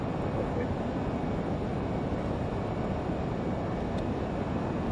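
Learjet 35 taxiing in a flight simulator: a steady, loud jet engine roar and rumble with constant broadband hiss, unchanging throughout.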